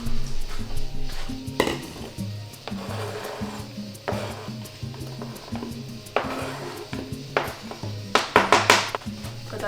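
Kitchen clatter of dishes and utensils while food goes into a bowl during burrito bowl prep with rice, several sharp knocks and scrapes over a steady background hum, with no talking.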